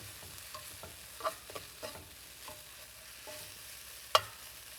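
A spoon scrapes and stirs taco meat in a frying pan, seasoned with lime juice and chipotle sauce. The scrapes are irregular and quiet over a faint steady sizzle, with one sharp clink from the utensil against the pan.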